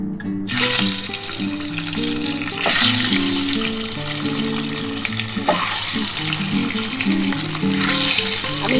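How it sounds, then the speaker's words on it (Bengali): An egg fries in a hot pan for an egg curry, a loud continuous sizzle with bursts of crackling spatter at intervals while background music plays underneath. "আমি ডিমটা ভেজে নিই"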